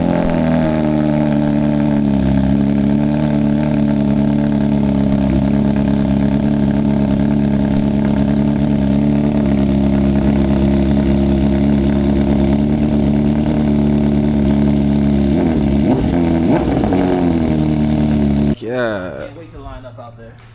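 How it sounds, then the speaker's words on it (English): A 2025 BMW S1000RR sportbike fitted with an aftermarket exhaust starts cold and idles loudly and steadily at close range, its deep throbbing tone holding for most of the clip and rising slightly before it suddenly cuts off. "cold start."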